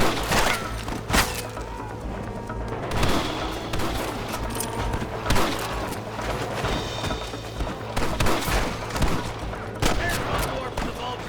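Gunfire rings out in a Red Dead Redemption 2 shootout, with repeated sharp shots in irregular bursts, some close and loud, others further off, amid shouted voices and background commotion.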